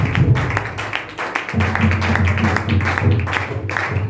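An audience at a worship gathering claps in a quick, steady rhythm along with music and a sustained tone, the sharp hand strikes repeating evenly throughout.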